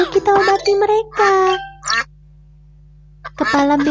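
A cartoon duck with its head stuck in a can gives several short, bright, nasal quacks in a quick burst in an animated children's show, followed by a pause and a tinkling jingle, with a steady hum underneath.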